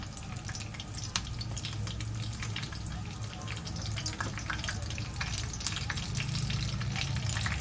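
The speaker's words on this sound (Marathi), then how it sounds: "मोहरी आपली छान फुलली आहे, पण त्यात कढीपत्ता घालूया, हिंग घालूया" Mustard seeds, curry leaves and asafoetida sizzle in hot oil with a steady, dense crackle and frequent sharp popping, continuous and close throughout.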